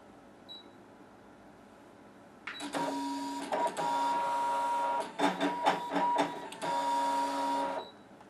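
A Brother ScanNCut cutting machine runs over fabric, starting after a quiet pause with a steady mechanical whir and buzz, broken by short stops and bursts of motor movement, then resuming until it cuts off abruptly.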